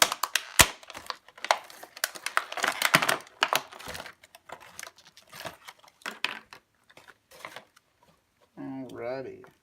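Plastic packaging around a new pump is torn and crinkled open in a run of sharp, irregular crackles and rustles up close, then goes quiet before someone briefly speaks at the end.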